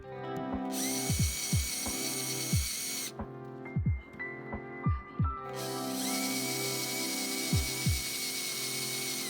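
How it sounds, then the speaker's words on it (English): Power screwdriver driving the screws of a light switch, a loud high whine in bursts that rise and fall in pitch, with short clicks and pauses between runs. "And now you can gently run it down with your gun, but not all the way down."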